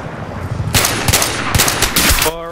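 Rapid automatic gunfire in a first-person shooter game crackles loud and close in sustained bursts with brief gaps, then cuts off into a short electronic tone at the end.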